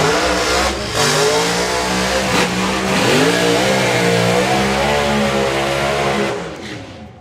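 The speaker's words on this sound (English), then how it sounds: "Rod stretching burnouts in both lanes." Two doorslammer drag cars doing long burnouts side by side at a drag strip, a loud sustained engine roar with rising and wavering revs that drops away at the end, close with no voices.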